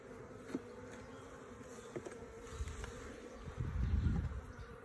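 Carniolan honey bees buzz in a steady, close drone during a hive inspection, with soft handling knocks and a louder swell of buzzing near the end.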